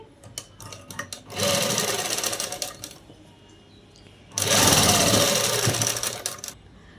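A sewing machine stitches the lining of a dress sleeve in two bursts of close, rapid whirring, the second one longer, separated by quiet pauses with light handling clicks.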